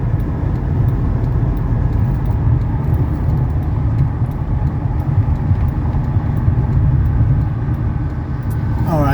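A 1991 Mercedes 300SE sedan drives at speed in a highway's fast lane, with a steady low engine and road rumble throughout, loud and close, as if heard from inside the cabin.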